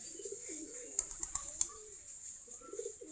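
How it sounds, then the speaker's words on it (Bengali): Local Giribaj pigeons cooing softly while they eat, low murmuring coos with a few quick faint taps and flutters in the middle, heard close but quiet. "আমাদের কবুতরগুলা খাবার খাচ্ছে, কবুতরকে খাবার দিয়েছি"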